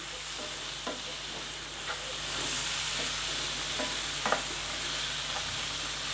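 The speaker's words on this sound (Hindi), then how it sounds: "अब दो से तीन मिनट मसालों को भुनने के लिए हम इसको छोड़ देते हैं" Spices for a pumpkin curry sizzle softly in a pan, a low continuous frying hiss broken by a few light stirring scrapes.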